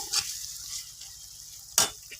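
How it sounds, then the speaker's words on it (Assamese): Pigeon meat fries in oil and is stirred in the pan. Two scraping stirs cut through a soft, continuous sizzle close by. "ভাজি ল'লে অলপ সময় ভাজি ল'ব, তেতিয়া তেলটো ওলাই পৰে।"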